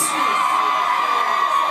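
A concert crowd of women screams and cheers in a loud, continuous roar at a summer show at Marco Polo in Negril, with the shrill yelling sustained throughout.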